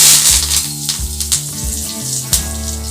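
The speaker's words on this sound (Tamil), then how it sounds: "கடுகு பொரிஞ்சதுக்கப்புறம் இப்போ நம்ம கருவேப்பிலை சேர்த்துக்கலாம்." Curry leaves dropped into hot oil after mustard seeds have spluttered, tempering for Tamil mango pachadi: a loud, steady close-up sizzle with brief crackling pops throughout, no voices.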